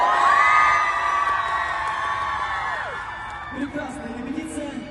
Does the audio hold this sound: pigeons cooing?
no